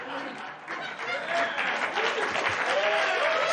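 Audience applause breaks out at a comedy set mocking political figures, a broad, continuous wash of clapping with a few voices calling out faintly underneath.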